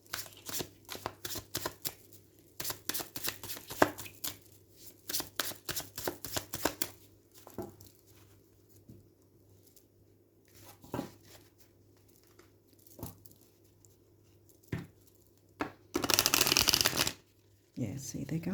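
A new tarot deck is riffled again and again in quick bursts, the crisp card flutters close and clear, with short pauses between shuffles and a louder burst near the end.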